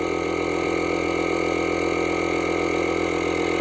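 A Lokithor jump starter's built-in air compressor pumps up a car tire from 10 to 35 PSI, giving a steady, close, droning motor hum that holds unchanged throughout with no pauses.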